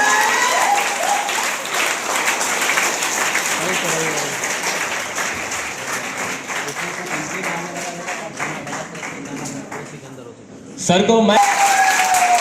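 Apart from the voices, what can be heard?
loud audience applause welcoming Santosh sir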